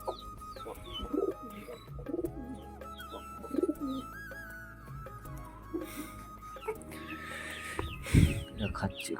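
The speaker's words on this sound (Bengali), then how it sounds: "আর এই যে আমাদের পায়রাগুলো সব খাচ্ছে বাইরে।" Pigeons coo outdoors while they feed, a soft, throaty warble that repeats in irregular bursts. Quiet room tone and scattered noises sit underneath, and one louder burst comes near the end.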